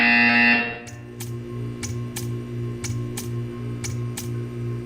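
In the video game Portal 2, a buzzer sounds in a string of short regular electronic pulses over a steady hum, following a louder tone at the start.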